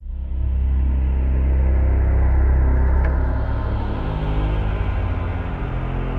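A deep, growling Radioactive Mordor synth bass patch rebuilt in Unify, a dense, sustained low drone with gritty upper texture holding steady and loud for about six seconds, with no one talking.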